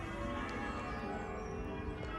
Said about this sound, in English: Grief, these bells go on for a long time